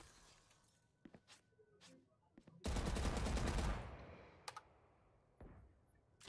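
A burst of automatic weapon fire in the shooter game Valorant, roughly a second of rapid, loud shots, with scattered sharp clicks and taps before and after in an otherwise quiet stretch.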